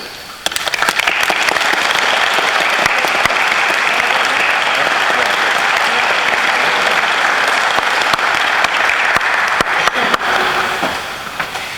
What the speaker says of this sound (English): give yourselves a real good round of applause